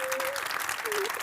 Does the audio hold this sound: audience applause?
yes